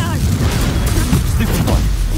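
A Confringo explosive spell is cast in Hogwarts Legacy, sounding as loud, dense booming bursts and crackling blasts that run continuously through combat, with voices over them.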